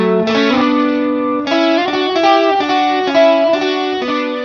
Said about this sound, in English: The polyphonic pitch in combination with harmony can create some 80s lead tones.